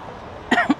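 A person coughs outdoors in a rose garden, a short burst of two or three close coughs after a quiet moment.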